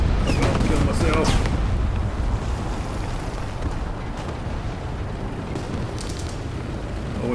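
Artillery shells explode in War Thunder around a Panzer IV Ausf. C medium tank, a loud rumbling barrage of booms at the start that fades into a continuous low roar of engine and battle noise.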